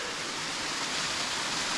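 A seasonal waterfall beside a gravel road, now running year-round, pours as a steady, dense broadband rush with no pauses, fairly close and loud throughout.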